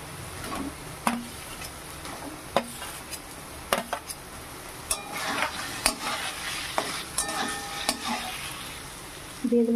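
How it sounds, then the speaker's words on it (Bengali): Pointed gourd (potol) fries with a green-chili spice paste in a pan, a steady sizzle with frequent clattering spatula scrapes and taps against the metal, and only faint voice. "এবার আমি আগে পটলগুলো দেব।"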